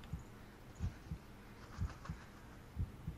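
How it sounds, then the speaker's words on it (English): A slow, steady heartbeat thumps low and muffled, about seven beats in a regular rhythm over a faint background hiss, from the horror video game Blair Witch. "I can hear my heart beat."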